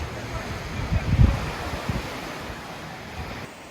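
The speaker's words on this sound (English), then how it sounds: "I am on a beautiful beach here in the Algarve, prior to Cavallo. It's a very small little beach" Surf washing onto a very small beach in the Algarve on a quiet evening, a steady broadband wash with a louder surge of breaking water midway, under some wind noise and no talk.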